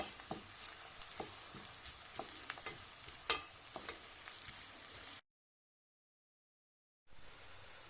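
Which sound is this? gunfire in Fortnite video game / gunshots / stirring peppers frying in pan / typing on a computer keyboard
stirring peppers frying in pan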